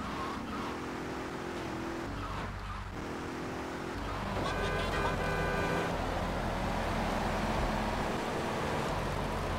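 A car drives in the video game GTA III, its engine droning steadily up close as it shifts pitch, with brief tire squeals and road rumble over a continuous background.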